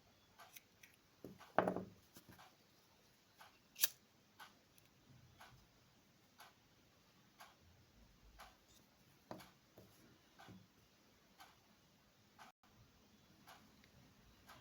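Small scissors snip crochet thread, producing quiet, sharp clicks spaced irregularly over a faint, hushed background.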